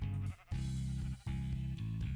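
Sheep on a sheep farm in a video game bleat repeatedly, several loud, nasal calls in quick succession with brief gaps between them, heard alone without talk.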